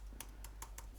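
Five quick keystrokes on a computer keyboard as a terminal command is typed, sharp distinct clicks at an uneven rhythm, close and clear over a steady low hum.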